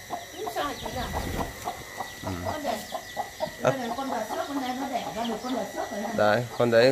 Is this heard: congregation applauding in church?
no